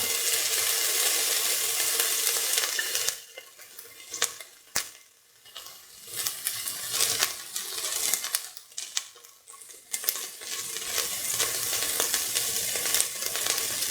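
Ginger and garlic sizzle and fry in a hot pan, a steady bright hiss broken by several stirring scrapes and knocks midway before the sizzle swells again.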